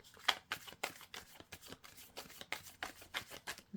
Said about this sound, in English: You see how messy I'm shuffling?